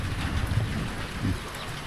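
Steady rain falls through a rural village in Laos in the morning, a continuous soft hiss of drops with a low rumbling undertone, even and unbroken throughout.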